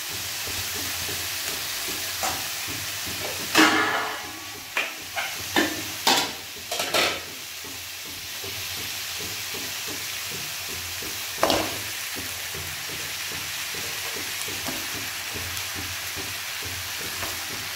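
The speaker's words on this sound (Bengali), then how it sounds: "লাল করে ভাজবো একটু। আদরক, পেঁয়াজ সব দেওয়া হয়েছে।" Chopped ginger and onion fry in oil in a pan with a continuous sizzle, broken by a cluster of sharp scraping and clanking stirs in the middle and one more later, while mutton soup is being prepared.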